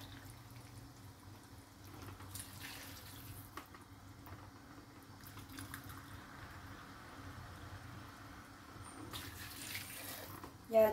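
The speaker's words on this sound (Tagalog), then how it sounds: "Lagyan na natin siya ng water." Water is poured into a cooking pot for pancit lomi, a low steady splashing and trickle that carries on for several seconds, faint and indoors.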